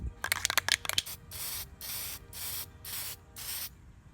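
Duplicolor clear coat hisses from an aerosol can onto a restored wheel in five even sprayed bursts of about half a second each, close and clear, after a quick rattle of handling clicks at the start.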